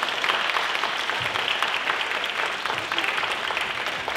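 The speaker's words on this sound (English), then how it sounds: "I think you all deserve a round of applause just for even standing on this stage" A talent show audience claps steadily in a full, continuous round of applause for contestants on stage, with faint crowd noise mixed into the dense clapping.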